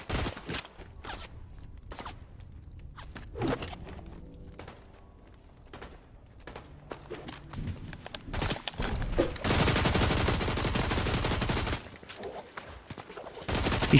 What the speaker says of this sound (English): He's shooting at something